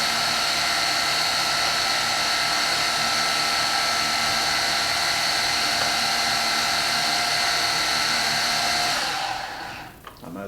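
Syma X8HG drone motors spinning at a high, steady whine, loud and close for about nine seconds, then cutting off and winding down abruptly.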